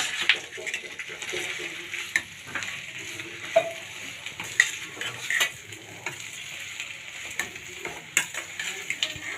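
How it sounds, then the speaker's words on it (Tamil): Dry pepper chicken with grated coconut being stirred in a pan, a steady scraping and rustling with light sizzle and occasional spoon taps against the metal, close and fairly quiet, no voices. "இது எல்லாத்தையும் நல்லா கிண்டி விட்டுக்கோங்க"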